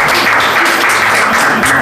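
Dense, loud applause from a wedding crowd, continuous clapping that fills the whole short stretch.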